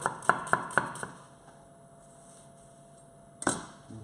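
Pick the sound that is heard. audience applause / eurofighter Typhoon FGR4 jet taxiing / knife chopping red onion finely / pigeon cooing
knife chopping red onion finely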